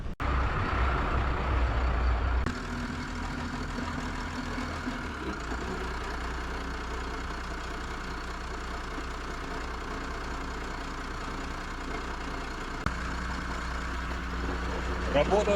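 Yacht engines idle at the dock before a sea trial after a refit, a steady, even low rumble that runs throughout, with brief speech over it at the start.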